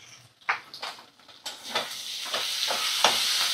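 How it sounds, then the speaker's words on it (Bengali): Ginger, garlic and cumin paste with Kashmiri red chili powder frying in a pan, soft sizzling that builds into a steady hiss, broken by several scraping stirs of a utensil. "মশলাগুলো ভালো করে কষিয়ে নেব।"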